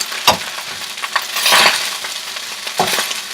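Shrimp fried rice sizzles in a pan while a utensil stirs and scrapes, with a few sharp metallic clinks against the pan over a steady frying hiss.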